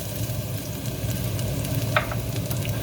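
Garlic sizzles in hot oil in a pan while cooking a fish ball sauce, a steady close frying hiss with light stirring scrapes, without talk.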